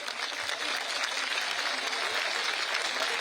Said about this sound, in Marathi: आपण टाळ्या बाजून अभिनंदन करू